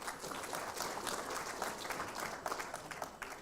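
An audience at a live 2024 examination results announcement claps steadily and loudly for about three and a half seconds, with a dense, even patter and a faint murmur of voices underneath.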